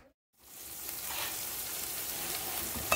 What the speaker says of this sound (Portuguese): Dourando aqui um alhozinho pra fazer meu arrozinho